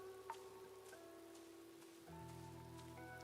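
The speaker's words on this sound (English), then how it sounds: "Can you hear that? The rain on the roof." Steady patter of rain on a roof in the video game Mutazione, a soft continuous hiss under a sustained ambient music drone with a few faint droplet ticks.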